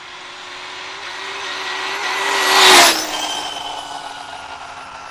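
A brushless 8S-powered Losi 5T RC car drives past, its high electric motor whine rising to a loud close peak near the middle and then falling away as it recedes, with no one speaking.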